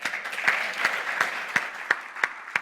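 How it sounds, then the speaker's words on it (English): Brief audience applause closing a panel discussion on cross-functional collaboration, a modest crowd clapping steadily with a few distinct, sharper claps ringing out near the end. "please, big round of applause"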